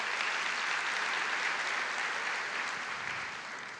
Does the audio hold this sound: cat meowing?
no